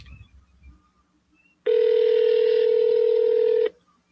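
A telephone dialing an outgoing call: a single steady two-second tone starts abruptly after a near-silent pause, loud and close, then cuts off, with faint room noise around it and no voices.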